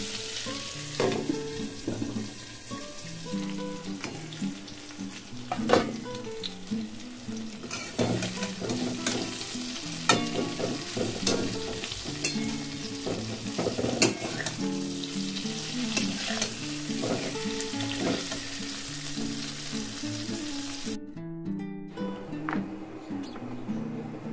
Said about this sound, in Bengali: আজ আবার একটু বেশি পরিমাণে কুমড়ো ভাজা করলাম